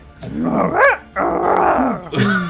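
A person's voice imitates the growling hoot of a bearowl, a fantasy creature, producing three rough, throaty growls with rising and falling pitch, close and loud.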